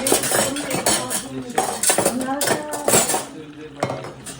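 Spinach and carrot soup stirred in a metal pot with a spoon, steady scraping and clinking against the sides, close and fairly loud.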